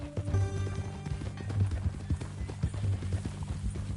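Horse hooves clip-clop in a steady, close walking rhythm under low rumbling background sound, with no clear talk.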